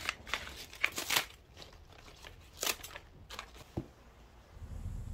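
Green onions (daepa) cut with a knife into equal lengths for storage, giving several sharp crisp slicing and crunching bursts spread irregularly, close and moderately quiet, with a low rumble near the end.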